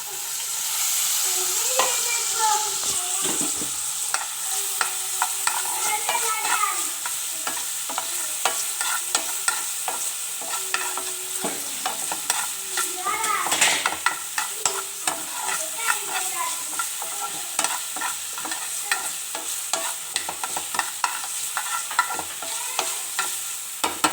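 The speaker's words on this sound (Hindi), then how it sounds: "और इसी में ही हम लोग लेंगे थोड़ा सा ऑयल, जिसमें हम अपनी वेजिटेबल्स फ्राई करेंगे।" Onions fry in oil in a pan, a steady bright sizzle with frequent scraping and stirring clatter throughout, close and loud with no voices.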